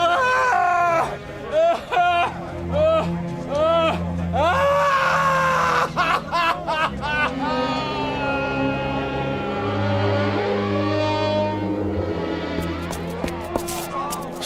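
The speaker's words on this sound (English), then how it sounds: "I heard him screaming" A man in a radio drama lets out anguished screams and groans, loud and close, mixed with frantic shouting voices and a dramatic musical swell behind them.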